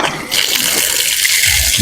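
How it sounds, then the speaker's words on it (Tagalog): Water gushes hard and steady from a faucet fed by a deep-well submersible pump, a loud continuous rushing that starts abruptly and keeps pouring without a break. "Lakas ng tubig ko."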